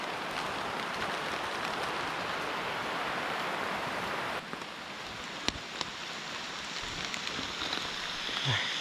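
Heavy rain pours steadily on a mountain hike at Phu Soi Dao, a dense close hiss throughout that eases slightly partway, with a few brief knocks and rustles.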